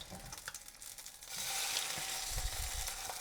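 Fish fries in a pan alongside a pasta meal. A soft crackling sizzle grows louder and steadier partway through, with a few faint clinks under it and no talking.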